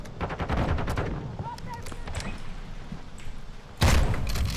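Repeated loud shotgun blasts and gunfire in Modern Warfare 2 multiplayer, with rapid shots early and a heavy close blast near the end, amid game noise and some talk.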